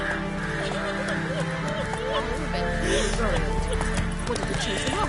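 Horse hooves clip-clopping in The Witcher 3, a rhythmic trot under game music and a voice calling out, with a brief whinny-like sound amid the steady hoofbeats.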